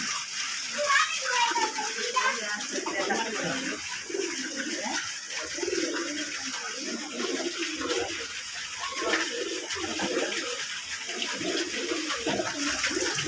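High-flyer pigeons on a hot tin-roofed rooftop, cooing and fluttering in a steady chorus of bird sounds throughout, with a constant hiss of background noise.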